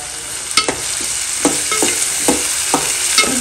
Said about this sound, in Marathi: दोन ते तीन मिनिट आपण टोमॅटो भाजून घेऊया